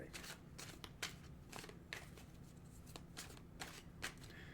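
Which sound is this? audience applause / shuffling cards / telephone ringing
shuffling cards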